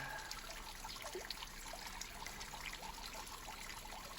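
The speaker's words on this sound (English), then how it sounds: "You can hear the sounds of birds, of insects, and the water." A waterfall cascades over a cliff outdoors, making a steady, faint broadband rush of falling water that runs continuously without pause.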